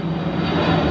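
A fixed-wing airplane passes overhead near a nature preserve trail, its steady engine drone filling the brief moment at moderate loudness with no talking.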